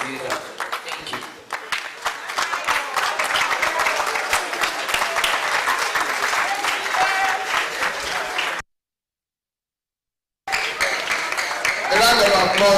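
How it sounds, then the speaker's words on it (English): Sustained applause from a large crowd at a school ceremony, steady and loud, with a brief gap of silence before the clapping resumes. "A round of applause"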